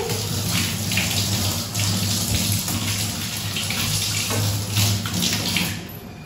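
A plate washed under a running kitchen tap, with water gushing steadily and splashing against the dish throughout, close and fairly loud.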